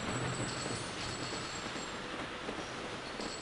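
A train rolls steadily along rails in the railroad strategy game Sid Meier's Railroads, a continuous rumbling hum with faint wheel noise and no talking.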